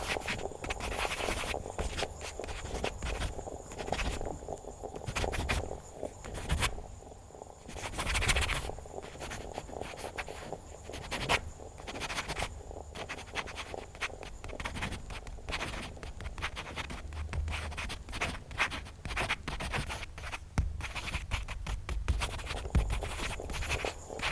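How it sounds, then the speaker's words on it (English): A pen scratches across paper in a coffee shop, close and continuous, with quick irregular strokes over a soft café background. "shift your attention to the sound of the person writing, the pen moving across paper."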